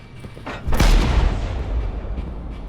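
A single cannon blast booms out in the Starboard video game, a deep heavy report that rolls into a long rumbling decay with no voices over it.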